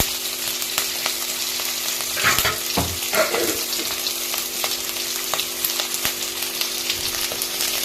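Onions sauté in a pan for potato masala with a loud, steady close-up sizzle, crackling throughout. A few sharper clatters of stirring come in around the middle.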